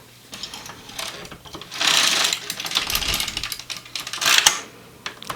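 Domestic knitting machine carriage sliding across the needle bed for short-row sweater shaping, with the stitches on one side held; two louder bursts of clattering, ratcheting rasp stand out from lighter mechanical rustle, close by with no talk.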